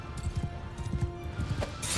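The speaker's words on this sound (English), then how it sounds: "Unfortunately, horses running through your troops can injure them." Horses gallop through massed troops in the video game Mount & Blade II Bannerlord, a quick run of thudding hoofbeats in a clip-clop rhythm over a busy battle background, with a brief snort near the end.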